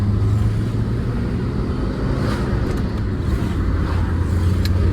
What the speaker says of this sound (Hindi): तो अब हमने गाड़ी रोड पे निकाल ली है